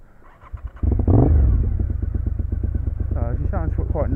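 A Raptor engine, still cold, fires up after a second of quiet and settles into a loud, steady, throbbing idle close by, with a voice briefly heard over it near the end.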